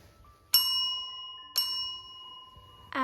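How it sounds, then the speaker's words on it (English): A child strikes a red bell twice, producing two clear, bright metallic dings about a second apart, each ringing out and slowly decaying, followed by the onset of a third, lower chime. "Now you can play the red bell."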